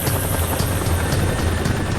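Vietnam War era Marine military helicopters, including the double-rotor CH-46 Sea Knight, thud steadily with a loud continuous rotor chop and engine whine, close and alone without speech.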